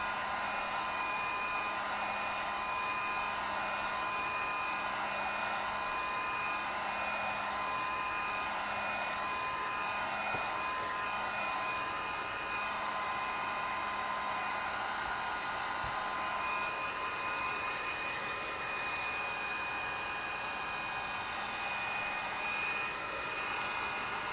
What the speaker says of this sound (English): So I'm going to dry them with the heat gun and try to speed it up.